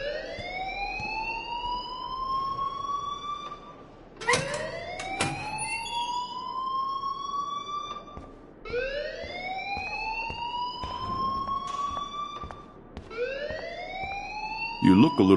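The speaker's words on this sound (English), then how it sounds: "please turn off that alarm since that's your job" A video game alarm wails in a rising electronic sweep that repeats four times at steady intervals, loud and continuous, with a faint voice underneath.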